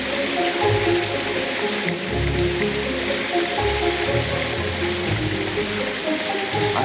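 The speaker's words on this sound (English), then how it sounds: "I'm near water, and then the sound of the water, the waterfall." Water pours and splashes steadily from a waterfall in a tropical jungle garden, with a continuous nearby rush broken by deeper gurgles and low surges.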